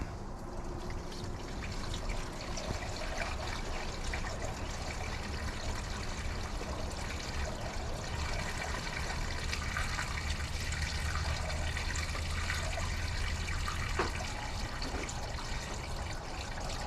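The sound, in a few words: coolant being poured into a 7.3 Power Stroke engine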